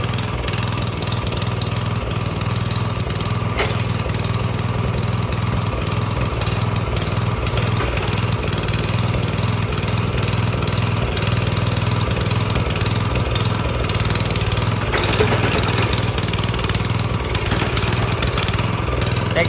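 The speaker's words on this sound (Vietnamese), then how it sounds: "Động cơ này lực lắm nha anh em ơi." Single-row rotary tiller running its engine, a loud continuous mid-pitched chug that holds steady and close throughout with no pauses.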